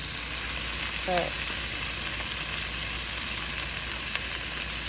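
Food fries and sizzles steadily in a pan at a campsite in a state park in Arkansas, a constant close hiss throughout with a brief clink and a single short spoken word.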